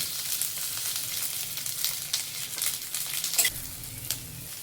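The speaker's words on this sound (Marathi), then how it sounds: "ह्या तेलामध्ये आपण कांदा परतून घेणार आहोत आणि त्याचबरोबर आलं लसूण सुद्धा परतून घेणार आहोत." Onion, ginger and garlic frying in oil, a soft continuous sizzle with occasional scraping stirs and light clinks of the utensil against the pan.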